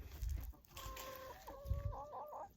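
Farm chickens cluck softly in short bursts, fairly quiet, with light background noise.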